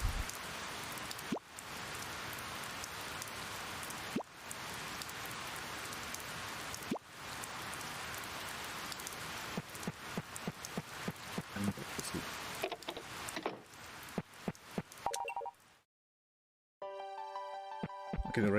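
Steady rain patters in the video game Harvest Moon: Save the Homeland, a dense even hiss broken by occasional soft thumps. It cuts to silence near the end, then gives way to tonal game chimes.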